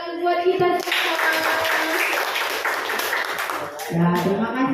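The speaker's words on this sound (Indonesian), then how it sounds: "Yuk, tepuk tangan buat kita semua." A group claps hands together at an icebreaker session, a sustained burst of applause lasting about three seconds, with voices speaking before and after.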